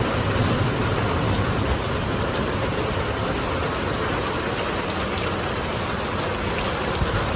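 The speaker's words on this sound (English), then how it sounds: "Look at the rain now." Steady heavy rain pours down in a constant dense hiss, with no letup and no voices.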